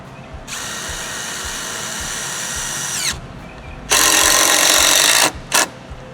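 Power drill driving screws into a wooden mailbox post: a steady whirring run of about two and a half seconds that rises in pitch, then a pause, a louder higher burst and a short final blip.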